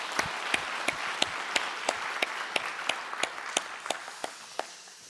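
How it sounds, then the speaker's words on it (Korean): A church congregation during a Sunday worship service claps in encouragement, a sparse, rhythmic run of distinct claps, moderately quiet, with a few sharper ones standing out against a soft room background. "격려의 박수 한번 해 주시기 바랍니다."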